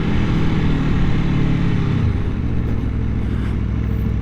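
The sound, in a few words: motorcycle exhaust revving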